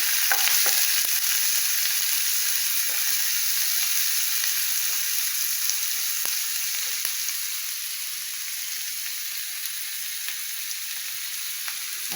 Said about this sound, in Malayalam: ഇനി നമുക്ക് സവോളയും ഇതെല്ലാം കൂടി നമുക്ക് വഴറ്റിയെടുക്കാം.